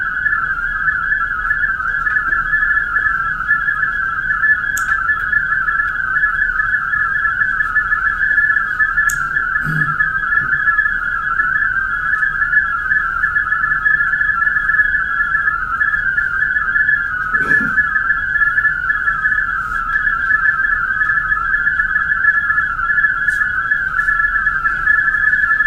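A steady digital ham radio tone runs unbroken and fairly loud over a low background hiss for the whole stretch, with a few faint clicks and brief blips scattered through it.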